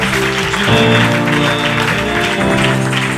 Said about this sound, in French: Nous acclamons très fort, très fort.